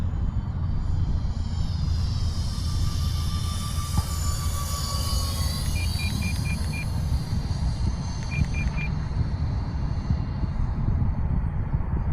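An E-flite F-14 Tomcat RC jet with twin 40mm ducted fans on its maiden flight, a continuous loud whooshing whine that rises and falls slightly as it passes.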